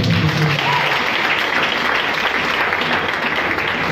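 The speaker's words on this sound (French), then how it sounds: "Acclame pour Jésus." A church congregation claps and cheers in praise of Jesus, a dense, continuous wash of applause from a large crowd with no break.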